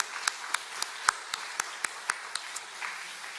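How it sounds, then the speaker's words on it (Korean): A church congregation at a Sunday worship service claps for the choir and praise team: sparse, evenly spaced individual claps, fairly quiet and somewhat distant, repeating steadily over a few seconds. "우리 축복하고 격려하는 박수 하겠습니다."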